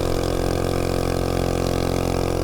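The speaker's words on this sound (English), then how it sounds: "I don't think this engine turns enough RPM for the juggernaut." A 196 engine on an MB 200 mini bike runs close and loud at a steady speed, an even, rumbling drone with no change in pitch.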